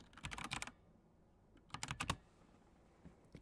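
Quick bursts of typing on a computer keyboard, two clusters of rapid close key clicks separated by a pause, with a few isolated taps at the end.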